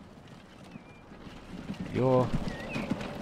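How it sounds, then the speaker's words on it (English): In a Jamaica city-building video game, a horse and cart's clip-clop comes as a brief burst of tonal, rhythmic clatter midway through, heard faintly beneath someone talking over a busy ambient game soundscape. "just going out with your horse and cart,"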